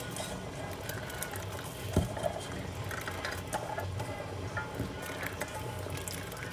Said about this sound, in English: So the water is already boiling here, as you can see.